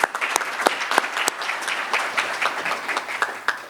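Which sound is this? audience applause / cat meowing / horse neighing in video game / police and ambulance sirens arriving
audience applause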